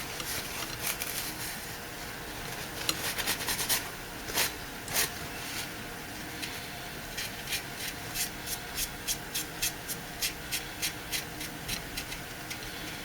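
Paper towel rubbing and wiping excess super glue and baking soda off a Syscooling SC300T pump, a series of short rhythmic scraping strokes, close, over a steady background hum.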